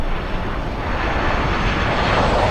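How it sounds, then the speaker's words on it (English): An Airbus A380 taking off from Miami International toward Heathrow, a loud continuous broadband jet engine roar that holds steady and swells slightly, heard alone without talk. "flies back to Heathrow. Big one, taking off."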